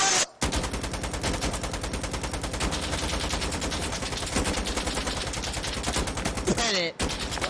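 Sustained rapid automatic gunfire in the game Insurgency Sandstorm fills the scene, loud and close with a steady fast rhythm and brief pauses, while voices shout over it.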